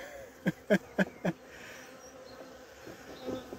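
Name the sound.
honeybees buzzing at an agitated hive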